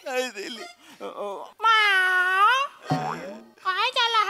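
A person imitates a cat, making several drawn-out, wavering meows in quick succession, close to the microphone.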